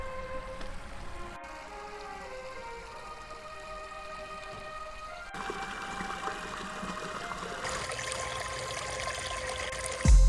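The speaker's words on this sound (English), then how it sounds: "beautiful pondless waterfall, completely transformed the stream" A backyard pondless waterfall in Annapolis, Maryland runs steadily, its continuous splashing and trickling water holding at an even level throughout, with no voices over it.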